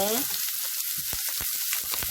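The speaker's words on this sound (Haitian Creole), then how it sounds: "On va faire cuire l'oignon un peu." Onion frying in olive oil gives a steady close sizzle, with a few light scraping stirs and a brief tone near the start.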